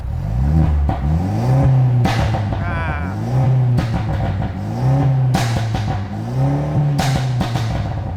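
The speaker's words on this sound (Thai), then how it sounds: "แต่พอเราเปิดวาล์วเขาเรียก Sport Exhaust พอเราเปิด ปุ๊บ มันจะเป็นอย่างนี้ครับ" A Mercedes C250 Coupe with C43 styling and Stage 2 tune revs hard in repeated bursts through an open sport exhaust valve, rising and falling several times with a deep, raspy roar.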